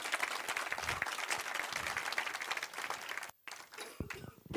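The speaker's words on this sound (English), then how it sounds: "Ladies and gentlemen, a massive round of applause for the Honourable Minister." Audience applause at a sustainable urban development seminar in Eswatini, welcoming the Honourable Minister: a dense, steady wash of clapping that holds for several seconds, then thins and falls away toward the end.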